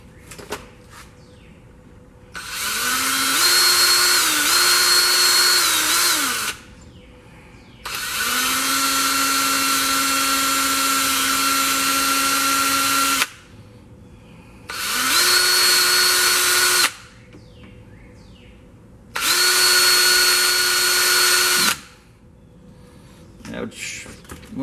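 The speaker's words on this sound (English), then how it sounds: "I'm going to go through it with the drill bit a couple more times" A power drill bores through a tail gear part while repairing a Century Radikal gasser helicopter with a Trex 700 gearset. Four long, loud bursts each rise to a steady whine, separated by short pauses.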